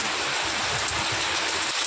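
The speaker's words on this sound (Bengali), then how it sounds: "ফাইনালি বৃষ্টি নেমেছে" Rain falls as a steady, even wash of noise through a short stretch, with no voices or other distinct sounds.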